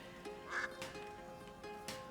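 A duck in the video game A Plague Tale: Innocence gives a few short, fairly quiet quacks spread across a steady background of game ambience, with no talking over them.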